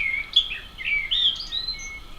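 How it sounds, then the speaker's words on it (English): A blackbird sings in a garden on a May evening, its fluting phrases and twittering notes carrying clearly and continuously over quiet background with no talking. "One particular blackbird is singing so beautifully right throughout these May evenings."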